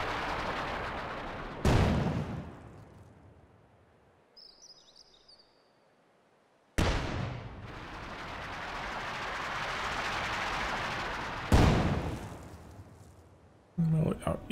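Pack howitzer in the video game Company of Heroes 2 auto-firing at near maximum range: three loud, separate booming shots, each trailing off into a long rumbling decay, with quiet gaps and faint game sounds in between.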